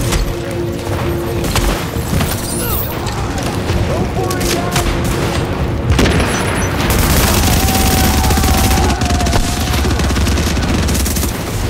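Sustained heavy gunfire in The Division video game, loud continuous automatic bursts and booms layered over each other, with a voice talking underneath.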